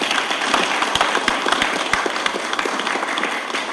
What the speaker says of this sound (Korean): 2022 과학기술 K 기업가 정신 토크 콘서트를 여러분 힘찬 박수와 함께 시작하겠습니다.